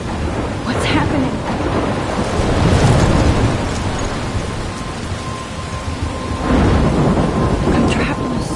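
Thunderstorm in the Life is Strange video game: heavy steady rain hisses throughout while deep thunder rumbles swell and roll, with louder cracks near the start, middle and end.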